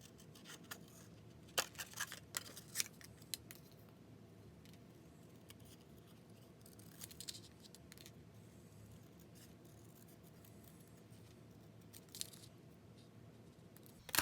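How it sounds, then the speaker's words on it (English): Paper snips cut out a stamped paper hat for a handmade card. There are faint intermittent snips and rustles, clustered early and again midway, over a low background hum. "we're going to grab our paper snips and cut this hat out"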